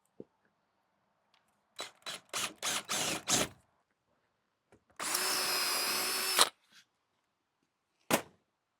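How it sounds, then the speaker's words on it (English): A power drill drilling holes in metal for a trailer roof rack runs in several short bursts, then one longer steady whir. Quiet gaps and a few clicks fall between the runs. "So let's drill these holes first."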